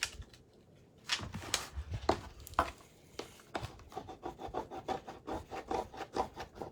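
Steady rubbing of a Prima transfer onto a surface while decorating a French country pumpkin, heard as close, dry scratchy strokes, sparse at first and then a quick, regular back-and-forth rhythm.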